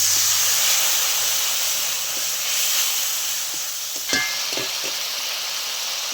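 Frying ginger, onion and turmeric in a pan hiss and sizzle steadily as a little water is added, a loud, close, continuous sizzle with a few faint clinks of a utensil near the end.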